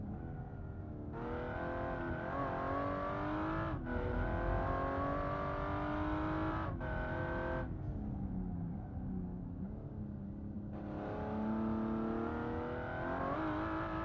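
Race car engine in a racing video game at Brands Hatch, revving hard through repeated gear changes on a standing start, loud and continuous with sharp pitch climbs and drops, no talking.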